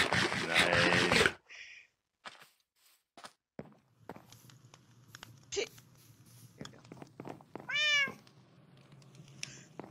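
A cat gives one clear rising-and-falling meow near the end. Before it come soft scattered footsteps and faint clicks in a quiet room, with a short burst of louder noise at the start.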